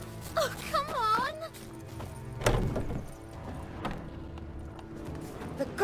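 Horse hooves trotting in The Witcher 3, a rhythmic clip-clop of a ridden horse underneath a voice and a brief horse whinny, with a thud partway through and the trot continuing steadily.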